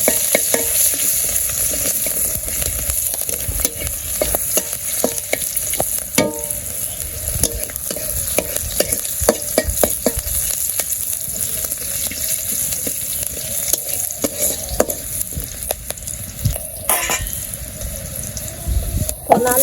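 Chopped onion sizzles and fries in hot oil with cumin and radhuni in a village kitchen, a steady crackling hiss with occasional clinks and stirring scrapes throughout, no talking.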